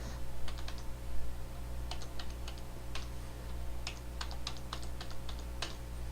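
Keys tapped on a computer keyboard during an Oracle Linux installation, small clusters of light, quick clicks spaced irregularly over a steady low hum from the machine, with nobody speaking.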